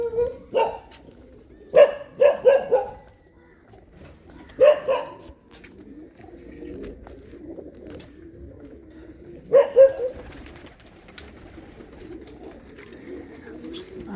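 Several short bursts of pigeon cooing, close and fairly loud, separated by quiet stretches, with a dog's bark-like sounds mixed in among the calls.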